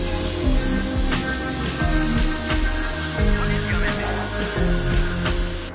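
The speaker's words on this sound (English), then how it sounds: "Now I'm just going to put some more white back into the airbrush just to reaffirm the shapes" An airbrush sprays white paint over a space scene painting, giving a steady, continuous hiss mixed with other layered background sound throughout.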